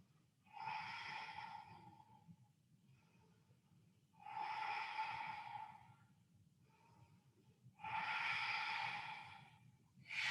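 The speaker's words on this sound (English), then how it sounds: "Take a big deep breath." Deep breaths during a yoga session, three slow, close inhalation-exhalation cycles spaced a few seconds apart with quiet pauses between, with no talking.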